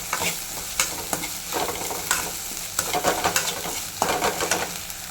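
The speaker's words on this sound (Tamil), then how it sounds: "நல்லா வந்து அந்த புதினா ஃப்ளேவர் அதில் இறங்குற வரைக்கும் நல்லா கொஞ்சம் கிண்டிக்கணும்" Egg rice with mint is stirred in a kadai, with repeated scraping strokes of a spoon against the pan over a soft, continuous frying sizzle, heard up close.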